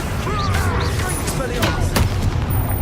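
In Hogwarts Legacy, a Confringo spell sets off a string of booming, blast-like impacts amid rumbling battle noise, with faint voices mixed in.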